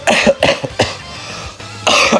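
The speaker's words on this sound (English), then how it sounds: "Excuse me for all the coughing." Several harsh coughs in quick bursts, close and loud, with a throat-clearing rasp between them and a short pause before a final cough.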